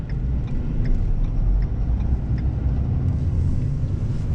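A 2016 Ford F250 Power Stroke turbo diesel pickup drives with a steady, loud low engine rumble under acceleration, heard from inside the cab with faint ticking on top and no talk.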